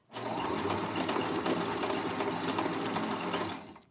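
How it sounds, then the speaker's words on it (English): A sewing machine runs in one steady, fast burst of stitching on lingerie fabric for panties, a rapid even whir and needle clatter that lasts several seconds, close and clear with no talk over it. "I'm kind of sewing more over here."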